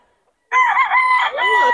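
A loud, close rooster crow at a rooster sale starts abruptly after a brief silence and carries on strongly, with a wavering, strained tone.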